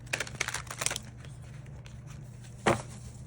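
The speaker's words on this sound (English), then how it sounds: "let's shuffle a new deck" A tarot card deck being shuffled by hand: a quick burst of papery riffling and crinkling, close and soft, followed by quiet and one more short snap of cards.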